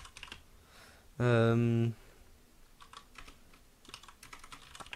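Fingers tap out a paragraph on a computer keyboard in quick, uneven bursts of close, light clicks, broken by a brief tonal beep or voice-like sound partway through.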